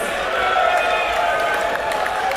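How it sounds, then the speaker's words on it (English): A crowd at a St Patrick's Day chessboxing night applauds, a dense continuous roar of clapping and cheering, loud and steady throughout without pause. "Give yourselves a massive round of applause"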